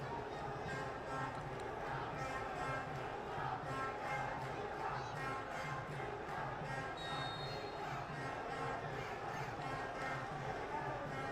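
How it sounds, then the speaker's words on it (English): A crowd at the SAFF U20 Championship semi-final football match between Nepal and Bangladesh gives off a steady, distant stadium murmur beneath continuous commentator talk. "A quiet and hostile crowd here."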